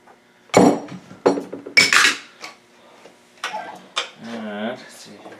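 Hand tools clink and clatter against metal parts while the kick starter gear is removed from a 2010 Yamaha YZ450 dirt bike with a faulty kicker, giving a few scattered close metallic knocks, with someone talking in between.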